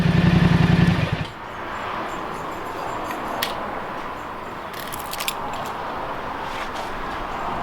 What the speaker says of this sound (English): the bike's up to temperature right now, so I'm just going to go ahead and shut it off